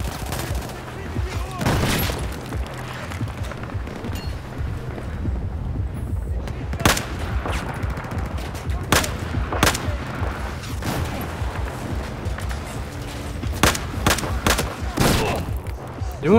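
Sustained gunfire fills a battle in the Battlefield 4 campaign. Sharp shots and rattling volleys land irregularly over a constant rumble of combat, some close and loud, and a voice is heard now and then.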